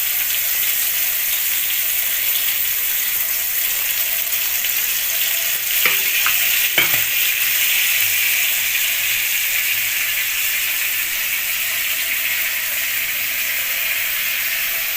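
Marinated mackerel (bangda) fries in oil on a medium flame, a loud, steady, close sizzle with a couple of brief clinks partway through and no voices.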